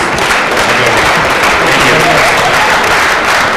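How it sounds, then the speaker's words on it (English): Dense, loud applause fills a forum hall as a youth and justice event crowd claps for an undersheriff, a continuous even roar of many hands without pause. "can I get you guys to give Undersheriff Coronado a round of applause, please?"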